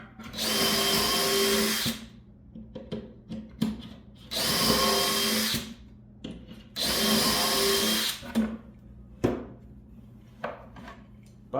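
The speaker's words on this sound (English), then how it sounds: "You drill the holes that you want to drill." A power drill whirs in three sustained bursts of about two seconds each, drilling shelf pin holes in wood with a Kreg shelf pin jig, separated by quieter clicks and handling knocks.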